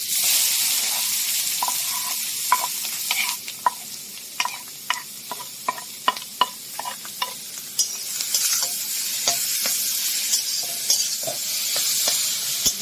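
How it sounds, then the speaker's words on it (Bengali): Carrots fry in ghee in a wok with a loud, constant sizzle, broken by repeated scraping stir strokes from a spatula through the middle of the clip. "ভালো করে এবার ঘিয়ের সাথে এটা ভেজে নিতে হবে।"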